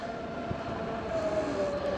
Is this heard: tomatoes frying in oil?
no